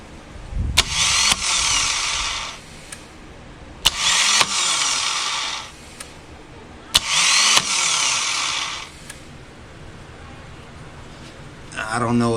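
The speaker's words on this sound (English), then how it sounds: "I'm gonna show y'all what goes on when a starter clutch is bad" The starter on a Harley-Davidson Night Train with a failed starter clutch spins freely in three whirring bursts of about two seconds each, every burst opening with a sharp click. A voice speaks briefly between them.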